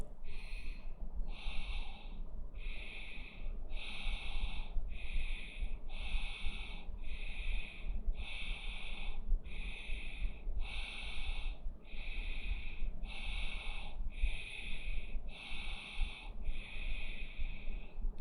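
Fast yoga belly breathing: a quick, even series of about fourteen forceful, puffing exhales driven by abdominal contractions, close and loud over a low background hum.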